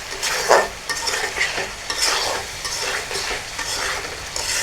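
Chital fish sautés in a pan with poppy-seed spice paste, giving a constant close sizzle as a spatula scrapes and stirs through it in uneven strokes, with no talking.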